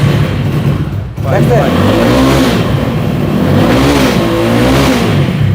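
A used Suzuki Gixxer motorcycle engine starts on the electric starter and runs loud and close, with rough revving that rises and falls, while someone talks over it.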